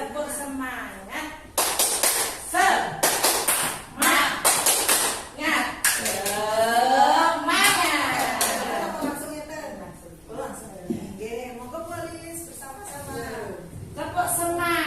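A group of teachers performs a rhythmic clapping chant in a training session, with bursts of patterned claps mixed with loud singing and chanting voices, close and lively throughout.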